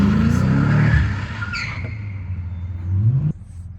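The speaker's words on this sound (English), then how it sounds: "I'm in an urban environment, so if you hear cars" A car passes on a street in an urban area, its engine rising and then falling away before cutting off abruptly, with a few brief higher sounds in between.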